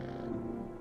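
Cat purring while being petted in the video game No, I'm Not A Human, a soft continuous low rumble, brief and steady.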